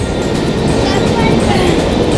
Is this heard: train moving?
yes